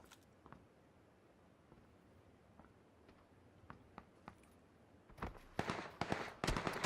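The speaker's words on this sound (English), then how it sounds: "More shots getting taken from Squad 3 across the road" Distant gunshots ring out in a PUBG custom match, a scattered run of sharp isolated cracks followed by a louder, denser cluster of shots toward the end over a low ambient hum.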